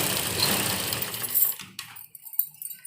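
Sewing machine running steadily while stitching the seams of a kurti made from warm fabric, a dense continuous whir for about a second and a half, then stopping, followed by a few faint clicks and handling sounds.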